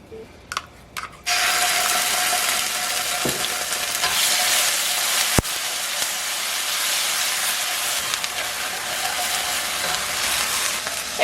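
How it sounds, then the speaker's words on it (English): Chopped garlic and ginger hit hot oil in a pan, a loud, sustained sizzle that starts abruptly after a few faint knocks, with an occasional clink of a utensil as it is stirred. "Then I'm putting in 1 tablespoon of garlic chopped and 2 teaspoons of ginger chopped."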